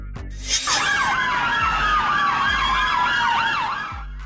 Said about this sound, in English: Police prisoner truck, a vehicle used for transporting prisoners or detainees.